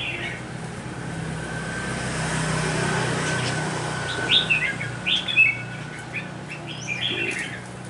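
Red-whiskered bulbuls sing in a competition, giving faint, scattered chirps and short whistled phrases over steady background hum and distant road traffic.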